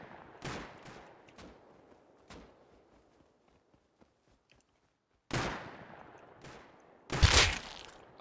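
Gunfire in the survival game Rust at a riverside, scattered sharp shots with echoing tails, then a quiet stretch before two louder close bursts near the end.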